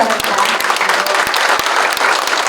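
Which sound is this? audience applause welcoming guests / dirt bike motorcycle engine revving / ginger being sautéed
audience applause welcoming guests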